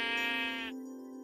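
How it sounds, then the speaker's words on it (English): A heal sheep in a multiplayer combat game gives one sustained, harmonically rich bleat that cuts off sharply, leaving a faint tonal hum behind. "Almost every map will contain heal sheep."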